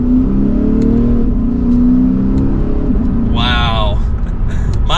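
A Lexus RC F naturally aspirated V8 engine hums and rises in pitch as it revs, close and loud, with a short whining burst near the end.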